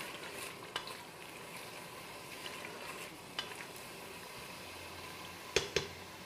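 Bhindi gosht masala of okra and meat fried and stirred in oil in a pan, a steady faint sizzle broken by several sharp spoon scrapes and taps, with no talking.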